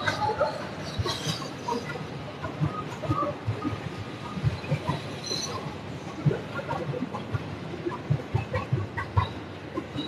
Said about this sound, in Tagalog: Ayun, nakikita niyo yung tren.